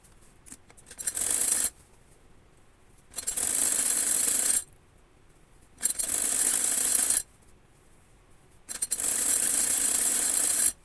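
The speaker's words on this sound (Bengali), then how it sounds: "এভাবে আমি মুহুরির বাকি অংশটুকু সেলাই দিয়ে নিব" A sewing machine runs in four even bursts while stitching the folded cuff of a girl's designer frock, each whirring run lasting a second or two, separated by short quiet pauses.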